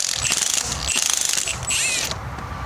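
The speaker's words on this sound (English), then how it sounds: "So I'm gonna go ahead and loosen these up." A ratchet wrench loosens the cylinder head bolts on a Corvette Tuned Port Injection engine during teardown, giving close, rapid bursts of metallic clicking with brief pauses between strokes.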